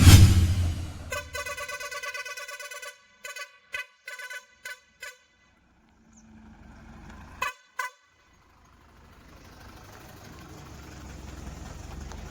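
A truck bringing Mysore calves to a livestock market sounds its horn in a series of short, sharp honks, then two more after a pause, with a low engine rumble underneath.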